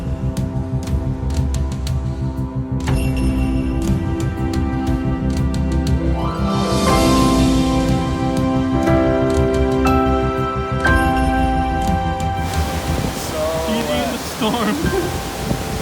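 Roaring spray from a Yosemite waterfall on the Half Dome hike: a loud, steady broadband rush that fills the whole clip, with a person's voice over it partway through.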